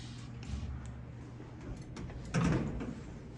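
A Dover hydraulic elevator door at the CMU Maverick Center in Grand Junction, Colorado slides shut with a low rumble that peaks in a firm thud near the end, over steady machine hum.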